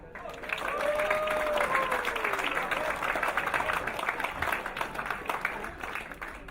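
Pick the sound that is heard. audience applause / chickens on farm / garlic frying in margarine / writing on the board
audience applause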